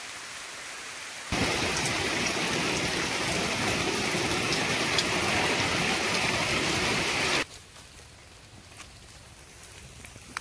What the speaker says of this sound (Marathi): जोराचा आलाय पाऊस.